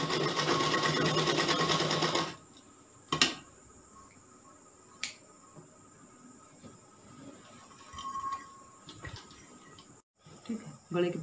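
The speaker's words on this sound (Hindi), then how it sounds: "इसके ऊपर एक सिलाई लगा देंगे" A sewing machine stitches a rib neck strip onto a kali gown, running loud and steady for about two seconds, then stopping, followed by faint handling clicks and brief quiet sounds.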